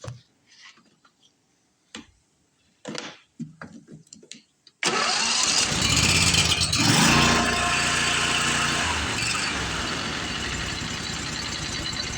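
A Briggs and Stratton 25hp V-twin riding mower engine with an oil leak and lost power, first a few short clicks and attempts, then a cranking start that settles into a steady, loud, continuous idle close by.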